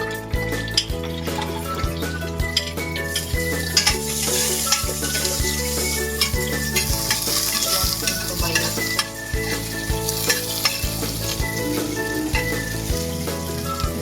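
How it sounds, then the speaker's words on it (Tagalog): Garlic and onion frying in cooking oil for sinigang na baboy, a continuous loud sizzle with frequent clinks of a utensil against the pan as it is stirred throughout. "nilagay ng mantika, bawang at sibuyas"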